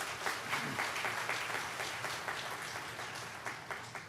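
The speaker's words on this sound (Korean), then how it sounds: "우리 조회풀 찬양팀과 글로리아 찬양대 박수 한번 보내주시기 바랍니다" A church congregation applauds the praise team and the Gloria choir at a fall revival service, a steady, moderately distant wash of many hands clapping that stays even throughout and slowly fades a little.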